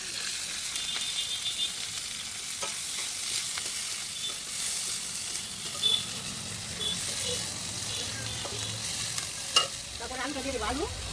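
Green chili and onion fry in hot oil with bay leaf and cumin, a steady broadband sizzle with occasional stirring scrapes and clinks, moderately close and fairly quiet.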